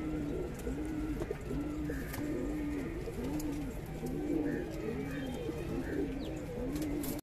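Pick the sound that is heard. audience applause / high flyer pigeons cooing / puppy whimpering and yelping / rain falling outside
high flyer pigeons cooing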